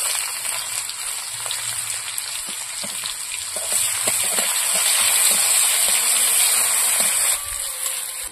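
Onions sizzle steadily in hot oil tempered with cumin, a close, continuous frying hiss that grows a little louder midway.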